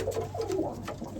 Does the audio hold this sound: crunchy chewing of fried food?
no